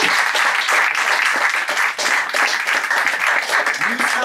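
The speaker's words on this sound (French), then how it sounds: "Donc on peut les applaudir très très fort." A crowd applauding steadily and loudly at an improv comedy show during the Avignon Festival, dense clapping sustained throughout with no pauses.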